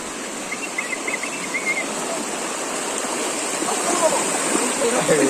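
Rainwater after a heavy downpour in Solapur rushes in as a steady, broad, hissing flow, loud and continuous throughout, with faint voices in the background.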